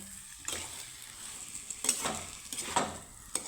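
Vegetarian gathi kochu (taro) curry with potato being sautéed and stirred in spiced oil in a pan, a soft steady sizzle broken by a few scraping stirs of the spatula, close and fairly quiet with no talk.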